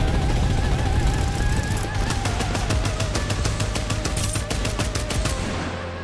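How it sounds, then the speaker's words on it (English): Heavy rapid gunfire in the game Farlight 84, with loud sustained machine-gun bursts of evenly spaced shots that run for several seconds and overlap from more than one direction. "We're getting shot from multiple angles now"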